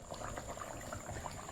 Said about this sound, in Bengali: ঢাকা দিয়ে ভালোভাবে ফুটিয়ে নেব।